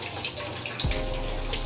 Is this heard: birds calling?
no